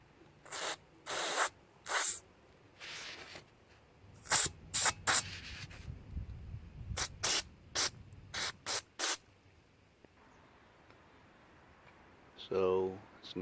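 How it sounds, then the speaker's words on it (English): Carburetor cleaner sprays in about a dozen short, sharp bursts at close range, cleaning the carburetor of a Toro Snow Commander 38602 single-stage commercial-grade snow blower, with faint rustling between bursts. "I'm going to blast it out with some carburetor cleaner"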